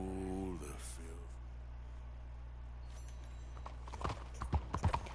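Steady clip-clop of horse hooves on hard ground in Red Dead Redemption 2, faint at first and growing more distinct, under a low droning background and brief voices.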